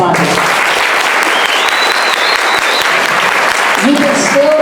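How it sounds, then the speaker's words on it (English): Steady applause from an indoor crowd at an open house event fills the whole stretch, dense and loud, with a voice briefly emerging near the end. "round of applause for those sponsors."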